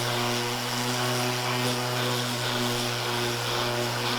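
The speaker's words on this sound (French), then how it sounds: "on va venir poncer l'extrémité des lames pour qu'elles soient nickel" A power sander runs steadily on the ends of wooden decking boards for a round terrace, a loud, continuous droning hum with a strong low tone and no pauses.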